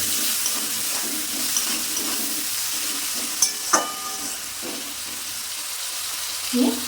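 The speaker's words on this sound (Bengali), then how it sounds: "টমেটো কুচিগুলো দিয়ে দিলাম, দিয়ে নেড়ে নিলাম" Tomatoes chopped small stirred into a pan of Bengali ar tangra fish curry, giving a steady sizzle with soft scraping strokes and a couple of sharper clinks from the spoon against the pan.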